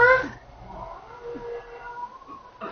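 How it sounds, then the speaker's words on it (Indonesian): A cat meows once near the start, followed by a softer drawn-out cry in an indoor setting, fairly faint. "Astaga, ternyata hanya kucing."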